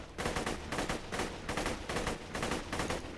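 Bursts of Vladoff assault rifle fire in the video game Borderlands 2, about seven short, evenly spaced volleys of rapid shots, close and punchy with no talking.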